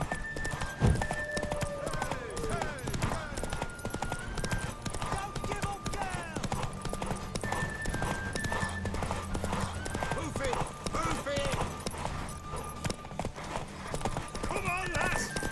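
Steady clip-clopping of horse hooves with an occasional whinny in The Witcher 3, continuous throughout, while voices speak over a game-like backdrop.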